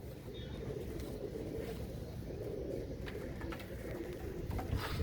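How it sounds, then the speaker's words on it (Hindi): A flock of teddy pigeons crowded together, soft cooing and rustling in a steady, close murmur with a voice talking faintly underneath. "ये इतने सारे एक साथ कबूतर खड़े हुए हैं"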